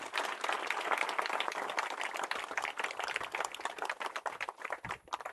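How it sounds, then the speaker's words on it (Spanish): A congregation at an outdoor beatification Mass on Cerro San José bursts into vigorous applause, a dense crackle of many hands that stays strong, then thins and turns ragged near the end. "Fuerte aplauso para este equipo."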